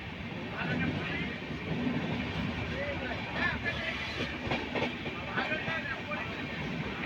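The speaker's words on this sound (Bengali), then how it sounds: "এই দেখো মেট্রো যাচ্ছে" A metro train rumbles past nearby with a continuous, moderately loud rolling roar and faint rattling, while people talk over it.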